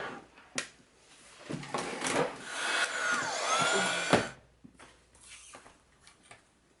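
A heat tool whirs steadily for a few seconds while it dries watercolor paint in an art journal, close and moderately loud, with a brief knock and quieter rustling before and after.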